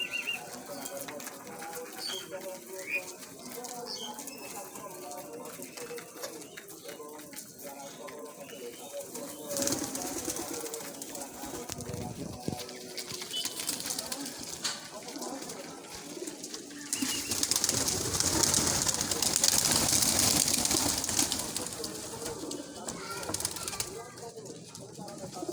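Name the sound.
pet pigeons cooing and flapping in pigeon house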